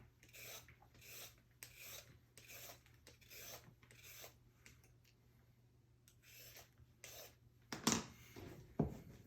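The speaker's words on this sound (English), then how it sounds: "But what I recommend is first peeling that carrot." A carrot is peeled for sushi prep, giving steady, close rasping strokes that repeat about twice a second. A couple of sharper scrapes come near the end.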